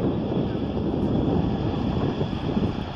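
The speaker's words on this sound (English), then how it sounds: "The Chinook is the only helicopter that can possibly carry its own weight underneath." A steady, heavy rotor and engine drone of a Chinook helicopter at an air show, loud and continuous with wind buffeting the microphone.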